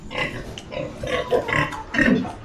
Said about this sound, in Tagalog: Nakita ko sa inyo yung mga baboy. Yun Ito yung mga inahin.